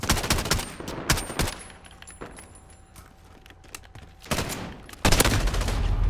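Oden rifle gunfire in Modern Warfare: dense bursts of rapid shots open the clip, a quieter stretch follows, then another loud volley near the end.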